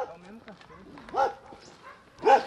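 A dog gives two short barks or yips at a house entrance, each a brief burst with a pause between, while people talk nearby.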